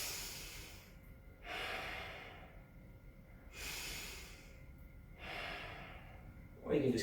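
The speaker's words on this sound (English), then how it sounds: "I like to breathe in and out" Slow, audible breaths during a yoga and qi gong forward fold: three long inhales and exhales alternating in a calm rhythm, close and soft, with a faint hum beneath.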